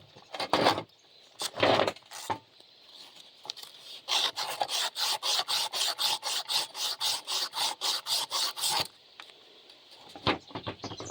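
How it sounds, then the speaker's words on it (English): Emery cloth rubbed on a metal part of a 2003 Yard Machines 31cc cultivator, a few scattered scrapes and then a steady run of quick, even back-and-forth strokes, close and fairly loud. "I'm just going to try emery clothing it off."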